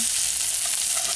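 Kaniseri saag greens hitting a hot pan set off a loud, dense, continuous sizzle that holds steady through the whole brief moment, with no talking.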